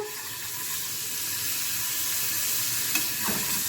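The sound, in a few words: garlic frying in oil for tasha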